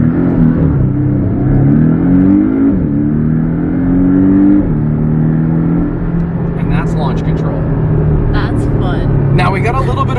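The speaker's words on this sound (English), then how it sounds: "Now we got a little bit of wheel spin," A Porsche 718 Cayman S launches hard from a stop using launch control, its engine roaring loud and close as the pitch climbs and drops through quick shifts while someone talks over it.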